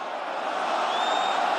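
Rugby stadium crowd at a La Rochelle versus Pau Top 14 match, a steady broad roar of many voices protesting an offside, with a faint whistle-like tone rising through it.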